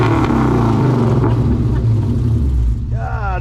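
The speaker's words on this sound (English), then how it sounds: "we'll give it another rev or two." A Ford Capri's engine revs loud and close, a deep rumbling roar that holds steady for about three seconds before dipping as a voice comes in at the end.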